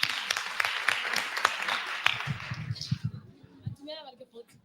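Audience applause at a hybrid digital skills training and awareness session, a steady round of clapping for the first three seconds that fades out as talk resumes near the end.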